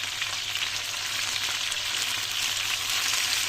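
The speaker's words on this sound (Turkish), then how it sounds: "Diğer yüzlerini de kızartıyoruz." Chicken chops sizzle steadily in a hot pan, a constant crackling fry close up with no voices.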